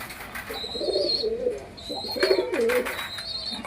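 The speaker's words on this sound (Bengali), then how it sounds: "পায়রাগুলো দেখুন শুধু" Pigeons cooing close by, a few soft throaty coo phrases repeating in bursts over a quiet background, with a faint high whistle-like tone between them.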